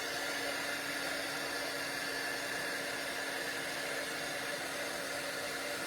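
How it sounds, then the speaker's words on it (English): Heat tool blowing hot air over a glitter paper butterfly craft, a steady, even whooshing drone with a constant motor hum, unbroken and fairly quiet throughout. "Now we'll bring in our heat tool."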